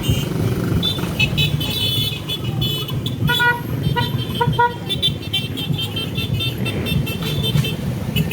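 Vehicle horns and motorcycle toots at a street parade in Guihulngan, Negros Oriental, Philippines, repeated short honks over a continuous roar of engines and traffic, with faint voices in the background.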